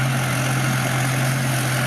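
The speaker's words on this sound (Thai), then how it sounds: "เครื่องยนต์น่าจะเป็นฮีโน่นะครับเนี่ยดูเครื่องยนต์ครับด้านหลัง" A Hino diesel engine on a rice harvester idles with a steady, loud, low rumble, an even hum with no change through the short stretch.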